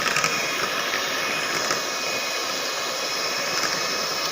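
An electric hand beater whirs steadily as it mixes eggless banana cake batter with oil and curd, a continuous close motor drone with no talking.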